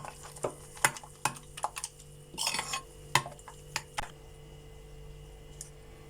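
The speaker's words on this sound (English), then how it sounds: "To the yeast mixture, we are going to add in 1 egg and mix that up a bit" An egg is stirred into a yeast mixture for cinnamon roll dough, giving irregular clinks and taps of a utensil against the bowl with short scraping bursts, fairly close and with no talking.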